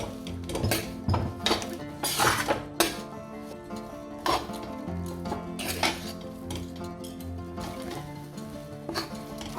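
Mashed tofu and potato are stirred and turned in a metal pan with oil and spices. A utensil scrapes and clinks against the pan again and again in uneven bursts, close and fairly loud, over a faint low sizzle.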